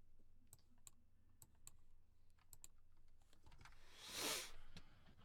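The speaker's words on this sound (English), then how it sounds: "I'm typing in chat." Quick, irregular keystrokes clatter on a computer keyboard at close range, with a brief louder rustle near the end, all faint and without speech.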